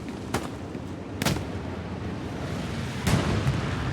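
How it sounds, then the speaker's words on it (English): Gunshots ring out in a first-person shooter battle, three sharp loud cracks spaced irregularly over a steady rumbling background of distant combat. "Oh, I'm getting shot at."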